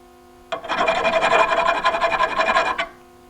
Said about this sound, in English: I'm just gonna see if I can get rid of some burrs on there, sharp edges.